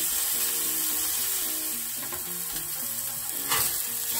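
Frisco Melt ingredients sizzle steadily on a flat griddle while a spatula presses down, a constant close frying hiss with faint scraping and a brief sharper flare near the end, no talking.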